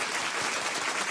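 A crowd applauding steadily, dense and even clapping filling the whole short moment without a break.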